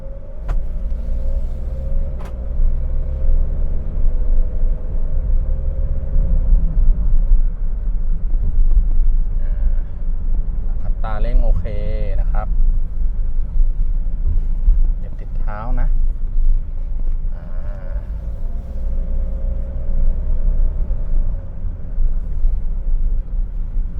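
A 2019 Hyundai H-1 2.5 Elite van idles with a steady low engine rumble heard from inside, someone talking over it and a few brief higher-pitched whirs partway through.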